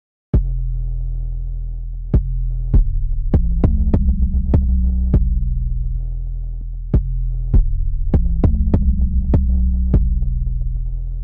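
Deep 808 bass sample notes from an Afrobeat production sound in an uneven rhythm, each a sharp click followed by a long booming tail that rings into the next, so the low tones overlap and throb, loud and alone.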